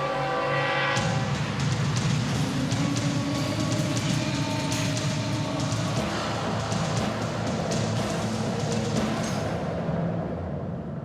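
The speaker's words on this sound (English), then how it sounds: "So when you hear these trains, you're listening to the sounds of the first moments of the final solution." Trains rumble past in a sustained, loud roar of rolling wheels and rattling cars, with a deep low drone and steady clatter that cuts off near the end.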